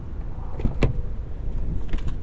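A 2023 Honda CR-V Hybrid Sport Touring door shuts with a single solid thud partway through, close by, above a steady low rumble of its surroundings.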